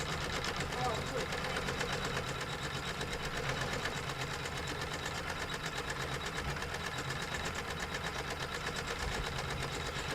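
A home quilting machine stitches steadily with a fast, even mechanical chatter that runs the whole time, while a person talks over it.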